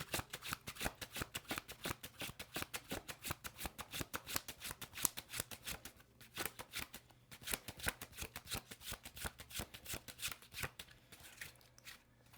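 Tarot cards are shuffled close up in a rapid, continuous riffling patter of crisp card slaps, sustained throughout with brief breaks.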